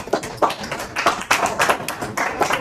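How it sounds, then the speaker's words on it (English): A small group claps at an institute anniversary event, sparse individual claps landing in an uneven, loose rhythm, moderately close with little crowd noise. "give them a big round of applause."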